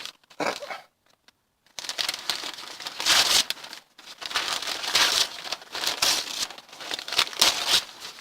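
Grease paper is crumpled by hand to start a hobo stove, a series of close, loud crinkling and crackling bursts after a brief quiet gap, continuing irregularly to the end.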